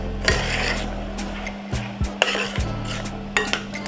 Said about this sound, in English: Parsley, basil, and then our fresh herbs, and stir all that goodness together